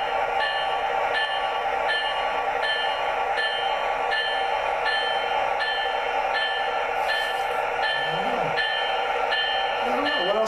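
A small CP Rail model train locomotive runs steadily nearby with a regular ticking clatter of wheels and a humming motor, while a voice talks briefly in the background.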